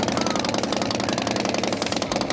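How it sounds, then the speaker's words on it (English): A custom motorcycle built with Harley components runs with a loud, rough, rapidly pulsing engine rumble, steady and close throughout. "and then I'm gonna fire it up."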